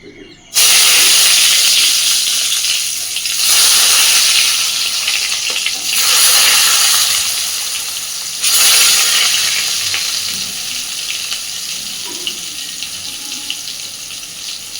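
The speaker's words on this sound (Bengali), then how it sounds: "আগে বেগুনগুলো আমি ভেজে নেবো" Eggplant pieces fry in hot oil in a wok, giving a loud steady hiss and sizzle that swells in several bursts as pieces are added, then settles to a quieter crackle.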